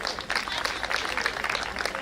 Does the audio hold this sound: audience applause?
yes